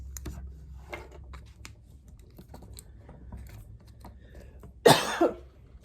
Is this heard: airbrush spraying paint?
no